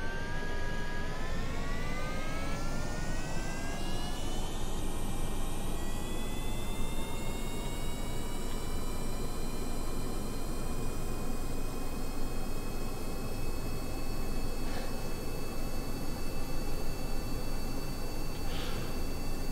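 A rocket engine in the Kerbal Space Program video game runs as a steady, loud synthetic roar with a rising whine, climbing in pitch over the first seconds and then holding; there is no talk.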